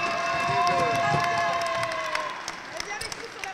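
An audience at the FFCLD National Meeting in Issoudun cheers and claps for the Étrépilly dance troupe, with a sustained crowd roar and whistles fading into scattered clapping.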